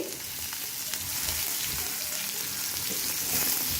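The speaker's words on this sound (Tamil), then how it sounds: "1 tablespoon பெப்பர், அதையும் போட்டு லைட்டாக வதக்கிடுவோம்." Black pepper sautéing in a pan for pirandai (adamant creeper) rasam, a steady close sizzle with faint stirring scrapes running the whole time, no voices.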